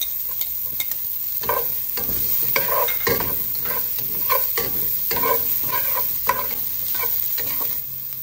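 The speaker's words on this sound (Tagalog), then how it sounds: "Sunod na natin yung sibuyas." Onion sautéing in a pan, a steady sizzle punctuated by rhythmic spatula scrapes and knocks roughly every half second, close and without talk.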